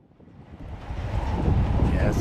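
Wind gusting across the Europa Sports Complex cricket ground in Gibraltar, a low rumbling rush that builds steadily louder against the microphone, with no voices over it.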